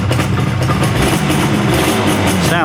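A Suzuki X5 motorcycle engine runs just after being started, a loud, close and steady idle that stays even throughout with no talking.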